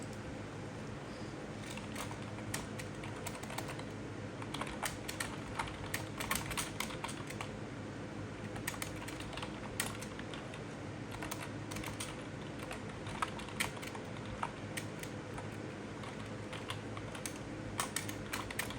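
Quiet, rapid clicking of computer keyboard keys in irregular bursts, close by and continuous, with no voices.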